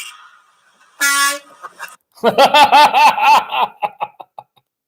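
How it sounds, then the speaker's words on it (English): A semi truck's air horn gives one loud, steady blast about a second long, then a burst of laughter follows close by. "Honking a horn of a semi."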